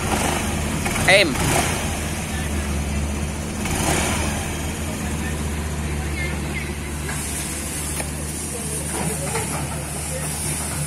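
A Honda Deo 110cc scooter engine runs at a quiet, steady idle, a low continuous hum with some hiss throughout. A voice is briefly heard.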